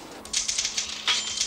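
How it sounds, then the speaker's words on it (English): Typewriter keys clatter in an upstairs office in a rapid, uneven run of crisp strikes, loud and close, with a heavier carriage-like clack near the end. "Upstairs in the office, Miss McClackerty is hard at work typing"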